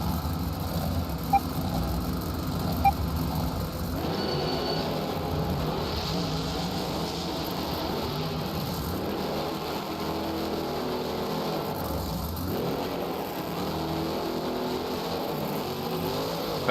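Monster trucks at the Beam Jam stadium event in Anaheim, California launch off the start, engines roaring loudly and continuously with rising and falling revs, accompanied by a steady crowd-and-venue wash.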